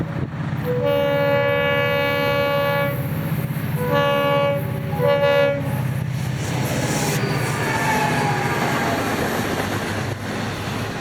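A diesel FEC train roars by close and loud, its horn sounding in three blasts, one long and two shorter, over the steady rumble of rolling wheels.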